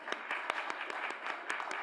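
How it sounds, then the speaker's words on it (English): An audience applauds at a COP28 Nordic Pavilion event, a run of distinct claps in fairly even rhythm, moderately distant and fairly soft. "Please give her a warm applause."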